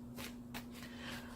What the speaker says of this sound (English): it is a difficult deck for me to shuffle